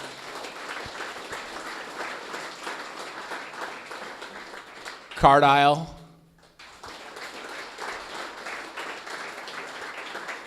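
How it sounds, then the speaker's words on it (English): An audience applauds presented startup teams at a coworking space event in Blacksburg, Virginia, steady clapping running through the clip with a short spoken interjection in the middle. "let's give them a round of applause"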